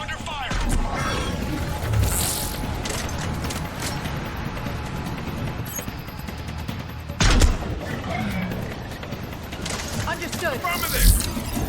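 Gunfire crackles in Mass Effect 3 combat, with bursts of shots, booms and impacts over continuous battle noise, and voices speak at times under the action.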